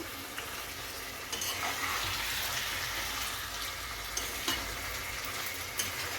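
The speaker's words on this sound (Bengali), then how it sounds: "আমি মশলাটাকে ভালো করে কষিয়ে নিচ্ছি" Spices and potato fry in a pan for a chicken dish, a steady close sizzle with scraping stirs and a few clinks of the utensil against the pan.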